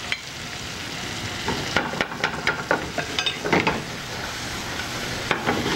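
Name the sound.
heating vegetables in butter in a pan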